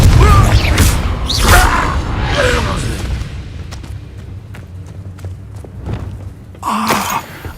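Fiery spell blasts from Hogwarts Legacy: several loud booming bursts with crackling tails spaced across the scene, over game ambience and scattered thuds.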